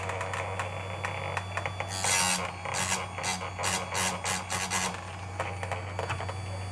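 A Harbor Freight chainsaw sharpener grinding a Stihl or Oregon chain, with a run of short, loud grinding bursts one after another over a steady mechanical hum.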